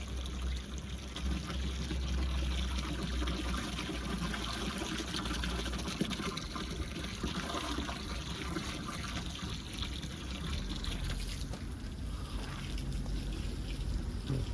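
Water pours steadily into a bowl set out for Kangal dogs outdoors, a continuous close gushing and trickling that fills the whole stretch, with a low rumble of background noise beneath.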